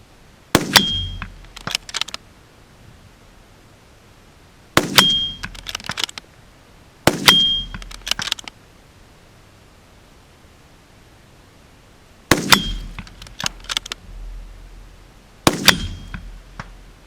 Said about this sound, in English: Very good, Steve. 5 shots, excellent